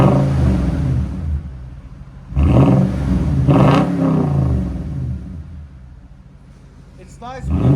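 A 2020 Toyota Tundra with a 5.7L V8 and Dirty Deeds exhaust revs up twice in short bursts, a deep throaty roar over a low idle rumble, close by, with people talking around it.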